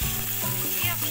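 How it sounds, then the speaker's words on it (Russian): Liver fries in hot oil in a pan, giving a steady, close sizzle alone without talk. "Обжариваем вот печень со всех сторон."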